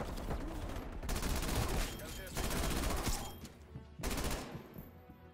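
A PPSh-41 submachine gun in Call of Duty Cold War fires in loud sustained bursts, several rapid volleys with short gaps between them, amid game noise.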